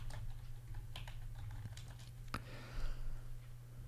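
Quick bursts of keystrokes on a computer keyboard as a template name is entered, light close clicks in an uneven rhythm with short pauses and one sharper tap near the end, no voices.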